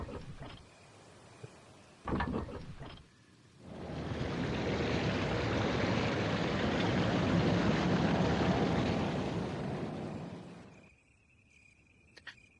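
In Resident Evil Remake, water rushes after a levee drops: a broad, steady roar rises after a few clanks, holds for about seven seconds, then cuts off into quiet.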